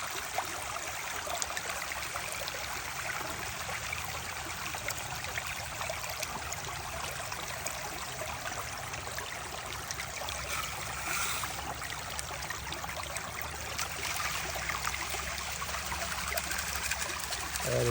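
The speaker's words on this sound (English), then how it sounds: "I just scooted the sluice back a little bit to try to get a little bit more water entering the sluice" Water runs through a sluice box in a soft, continuous trickle, quiet and even throughout with no other sounds.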